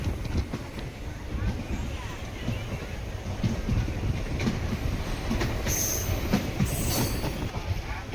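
An Indian passenger train running from Rameswaram toward Tiruchirappalli by the Pamban Bridge rumbles along steadily, with wheel clatter, a few rhythmic clicks and brief high squeals of the wheels on the rails.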